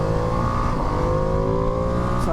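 Engine of a 2025 Ducati Panigale V2S motorcycle running at steady high revs while riding, a loud continuous droning whine with a slight rise in pitch and rushing wind underneath.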